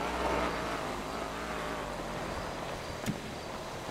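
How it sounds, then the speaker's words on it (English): A truck drives nearby in GTA 5, heard as a steady, fairly faint engine rumble under broadband wind-like noise, with one brief knock near the end. "I hear someone driving a truck over here"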